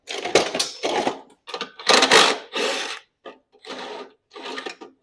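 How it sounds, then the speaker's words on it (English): A 1/2-inch socket wrench ratchets in short, busy clicking bursts while a garage door opener is being installed. About eight close, loud spurts are separated by brief pauses, with no talking. "Now I take my 1/2-inch socket and I get that perforated angle so I can hook up a new opener."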